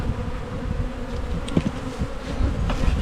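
Honeybees hum steadily at close range while a hive is inspected near the end of swarming season, with a supersedure queen in the colony; a dense, continuous buzz carries a few brief louder passes of individual bees.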